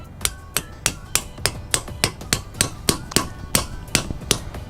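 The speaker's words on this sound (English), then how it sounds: "give it a little couple taps with your hammer" A hammer taps metal garden edging in a steady series of sharp, evenly spaced strikes, about a dozen close knocks ringing briefly, with no talking.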